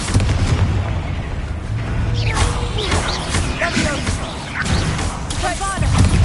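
A Confringo blasting spell in the video game Hogwarts Legacy bursts with booming, crashing explosions amid busy combat noise, with shrill creature-like cries and voices woven through the loud mix.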